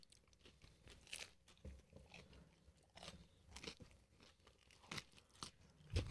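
Someone bites into and chews a DiGiorno Rising Crust frozen pizza, giving sharp crunches at irregular intervals close to the mic. The crunching is quiet overall, with soft chewing in between and no talking.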